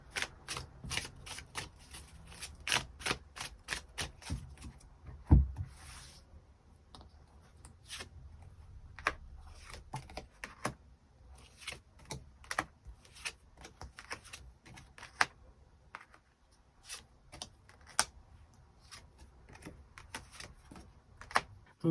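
Tarot cards shuffled and drawn up close: rapid riffling clicks at first, then scattered crisp card snaps and slides at an uneven pace over a quiet background, with no talk.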